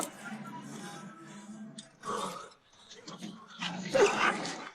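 A dog in a war drama whines and whimpers with short yips and barks, set among battle sounds and mixed with people talking over the scene.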